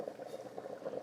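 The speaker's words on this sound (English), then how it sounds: "Excuse the boiling noise." A pot of beans bubbles on a stove, a steady low burbling boil with rapid soft pops, quiet and continuous with no other sounds.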